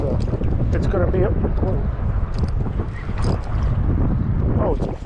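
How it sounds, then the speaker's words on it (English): Steady wind at a saltwater inlet buffets the microphone in a continuous rumbling roar, with a voice talking over it and faint water sounds nearby. "It's a windy one today"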